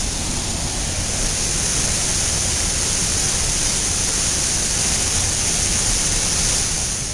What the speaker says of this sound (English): It's just an awesome waterfall. This is Havasu Falls,